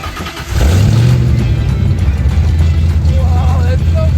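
A 1995 Ford Mustang engine with a partial exhaust setup revs up loudly and close, a deep rumbling low tone that climbs in pitch then settles into a steady throaty drone, with voices faintly underneath.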